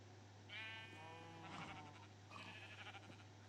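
Minecraft sheep bleat repeatedly in a modded game world, a few wavering nasal bleats in quick succession over a steady low background hum, with no talking.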